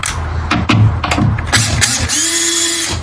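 A screw is driven into a wooden board while building a ramp launcher, close-up ratcheting bursts from a power driver with short pauses, followed by a sustained whirring run, with no voices.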